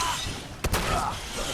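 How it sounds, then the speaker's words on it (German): Gunfire during an ambush in the video game Fallout 4: one sharp, loud burst of shots amid a muffled, noisy game background, brief and isolated. "Schüsse aus dem Hinterhalt, was?"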